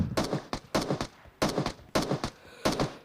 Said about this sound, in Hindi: फायरिंग की साउंड वहीं से आ रही थी